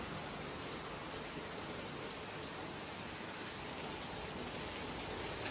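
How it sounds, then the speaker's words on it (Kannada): Heavy monsoon rain pours steadily in the Malnad hills of Karnataka near coffee estates, a dense, unbroken hiss of falling water that stays even and close throughout, with no voices. "ಆದ್ರೆ ಮಳೆ ಮಾತ್ರ ಬರ್ತಾನೆ ಇದೆ."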